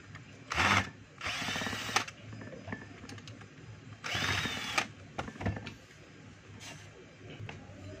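A power tool whirs in short bursts while a screw is removed from a DeWalt DWE8200S 4-inch angle grinder, two longer loud runs with brief clicks and handling noise between them, fairly close.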